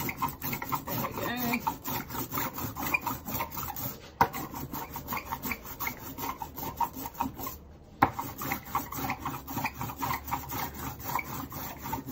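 Continuous sticky, rasping rolling sound of an ink roller worked back and forth across a slab for lino printing, steady and close, with brief pauses.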